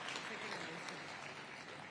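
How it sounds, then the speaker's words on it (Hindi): Applause from an audience at a police conclave, a dense, even wash of many hands clapping, held steady and fairly quiet throughout with no clear voices. "तालियां बजती रहनी चाहिए क्योंकि ये आपकी कामयाबी की कहानी है"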